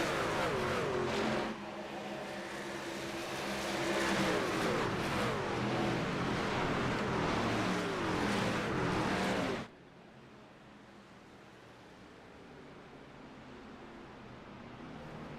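Race cars in a stock-car field circle the Talladega track behind a pace truck, a loud, sustained engine roar that swells as cars pass, then cuts abruptly to a quieter, distant hum.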